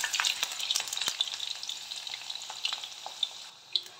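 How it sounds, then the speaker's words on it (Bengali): Quartered medium potatoes fry slowly over low heat in leftover oil from frying kofta balls, giving a steady soft crackling hiss with scattered small pops throughout. "আলুগুলো আমি লো হিটেতেই ধীরে ধীরে ভেজে নেব।"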